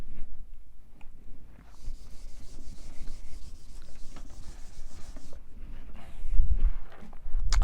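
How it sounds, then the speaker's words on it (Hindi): Writing is rubbed off a board during a chemistry lecture, with continuous close scrubbing and swishing strokes that grow rougher and louder toward the end. "यहाँ पे इसको मैं अब रब करने जा रहा हूँ।"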